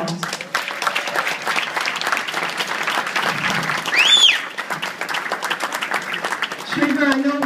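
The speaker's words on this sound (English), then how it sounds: "So I think that's a big round of applause" Audience applause at a community hero award ceremony, a sustained patter of clapping mixed with cheers and a voice or two, with a brief whoop rising above the crowd midway.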